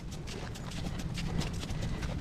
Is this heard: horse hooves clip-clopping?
yes